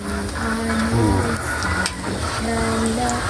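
Sardines fry in hot oil with a steady, dense sizzle and crackle, close and continuous throughout, with a faint tonal hum running underneath and no talk.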